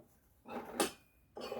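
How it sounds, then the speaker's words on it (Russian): Thin porcelain teacups, Soviet vintage tableware, clink together in a few quiet bursts: a short rattle, a brighter ringing clink, then another soft rattle, with no talk. "как звенят чашечки"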